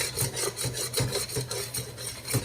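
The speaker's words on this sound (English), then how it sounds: "Start scraping the bottom of the pan to get all the font off the bottom of the pan." Rhythmic rough rasping of a utensil scraping the bottom of a pan while making shrimp etouffee stock with wine, repeated short strokes close up and soft, with no talk.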